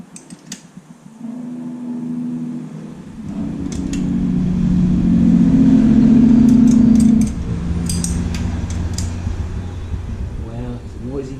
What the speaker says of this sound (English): Lousy trucks.